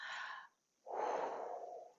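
Two audible breaths, an in-breath then a longer, fuller exhalation after a short pause, close and fairly soft, with no talking.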